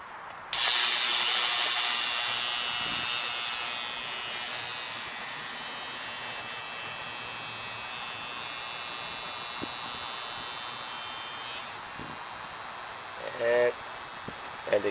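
A 1000 amp metal melter passing current through a metal piece gives off a steady electrical hum and buzz, loud at the start and then holding level, with faint clicks and a short louder burst near the end.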